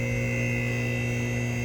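A 2.0-litre four-cylinder Audi Q5 idles with a vacuum leak and misfire, giving a steady, close drone of low hum and tonal whine that holds evenly with no pauses.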